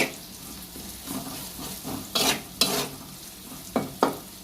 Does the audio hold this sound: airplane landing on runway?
no